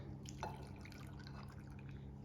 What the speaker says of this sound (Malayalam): ഇനി ഇതിലേക്ക് ഒരു കപ്പ് പാലാണ് ഞാൻ ഒഴിക്കുന്നത്